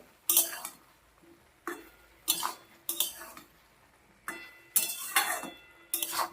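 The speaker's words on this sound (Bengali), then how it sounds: "এবার একটু নাড়িয়ে দেবো" A utensil stirs ash gourd curry in a pan, producing a series of separate metallic scrapes and clinks in uneven bursts, close and fairly quiet with no talking.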